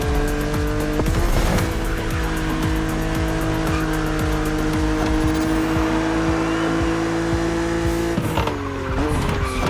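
A BMW Z roadster races hard against an opponent: a loud, steady high-revving engine whine with gear changes and repeated tire squeals, plus other cars roaring past throughout.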